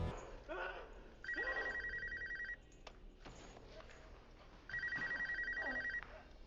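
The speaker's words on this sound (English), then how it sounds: "In a crucial moment, Gord sees a ringing phone just out of reach." Telephone ringing in a tense scene from a Saw horror film, two long bursts of electronic trilling separated by a pause, loud and clear over a dim, rumbling room ambience.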